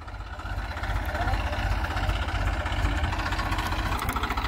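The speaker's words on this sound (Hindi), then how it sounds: "तो भाई ट्रैक्टर को बिल्कुल स्लो चलाया जा रहा है" Tractor engine idling and running slowly in a field during manure spreading before sowing pearl millet, a steady low throbbing drone that holds evenly throughout.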